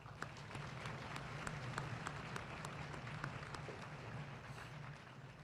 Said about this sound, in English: Please join me in a round of applause for my cadre.